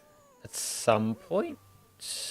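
A cat meows twice in Final Fantasy XIV, two clear mid-length calls close by, with bursts of hissy game noise before and after and a person talking briefly.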